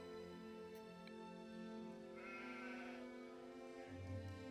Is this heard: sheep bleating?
yes